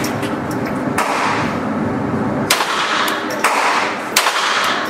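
Gunshots fired at a shooting target, several sharp loud cracks in an irregular sequence, one early and a cluster of reports later, over a steady outdoor background rumble without talking.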